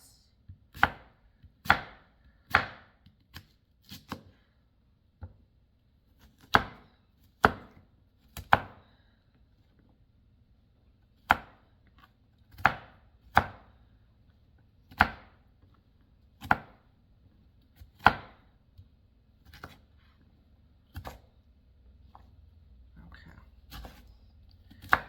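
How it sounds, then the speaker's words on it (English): Potatoes are chopped into small chunks with a knife on a cutting board, each sharp, close chop standing alone in irregular bursts and single strikes, with pauses between runs and faint background hum. "Just make small chunks. I love to chop vegetables."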